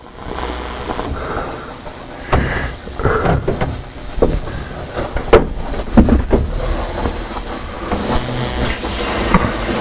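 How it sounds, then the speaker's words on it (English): A leaking tricock valve on a steam locomotive at the Virginia and Truckee Railroad sends out a steady hiss, with clanks and knocks from the engine nearby rising and falling over it. "It's just a leaking tricock valve,"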